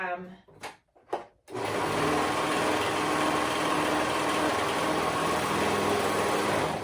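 After a few brief, sharp noises, a sewing machine runs continuously using a stretch stitch on fabric, a fast steady whirring hum of stitching that fills the rest of the clip.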